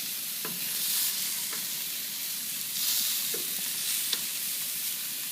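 Ribs sizzle steadily on a hot grill grate, a constant broad frying hiss that swells a little at times, with a few faint ticks and pops and no voices.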